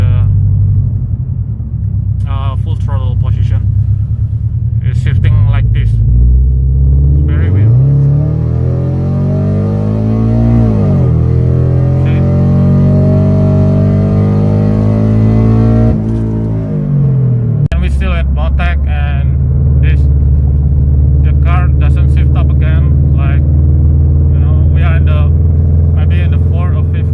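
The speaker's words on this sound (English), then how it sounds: "we are going to try the full throttle position. It's shifting like this." Toyota FT86 with an automatic gearbox on a Motec M150 plug-in harness, revved at full throttle, its loud engine note climbing through repeated upshifts with pitch sweeps and drops, idling rumble before and after.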